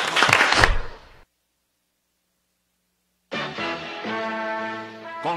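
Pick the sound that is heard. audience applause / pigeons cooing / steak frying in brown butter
audience applause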